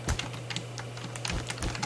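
Rapid clicking of an old, loud computer keyboard during PC gameplay, many sharp keystrokes in quick irregular bursts, close and clear, over a steady low hum.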